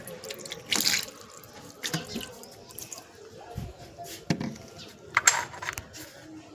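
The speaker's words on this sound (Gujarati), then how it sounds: "પાણીની બોટલ ભરાઈ ગઈ છે" A water bottle fills from a tap, with running water and irregular splashes and gurgles rising and falling in short bursts, plus a few light clinks.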